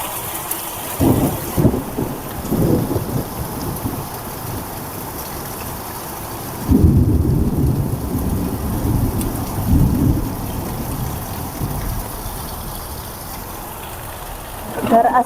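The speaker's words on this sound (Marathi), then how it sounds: "तर आता आला आहे पाऊस." Heavy rain with rolling thunder is heard from inside a room in a farmhouse in a village, making a steady wash of rain with deep, loud rumbles that swell and fade.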